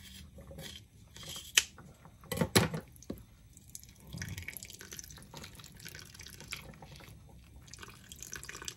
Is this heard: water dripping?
yes